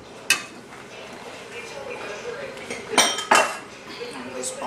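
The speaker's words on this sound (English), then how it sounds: "We're going to spoon some fava." Fava being spooned into a bowl in a kitchen, with a sharp clink of cutlery against dishware followed by softer scraping and a couple more clinks, close by, with faint speech in the background.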